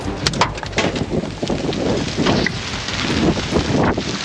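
Strong gusts from a violent supercell thunderstorm in the Beaujolais buffet the microphone in a continuous roar, with sharp creaks and knocks breaking through.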